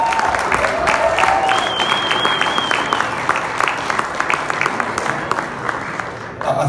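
Audience applause with cheering at a USA Rugby gala, a dense, steady wash of clapping from a large room lasting several seconds, with a few whoops and voices mixed in before it cuts off abruptly.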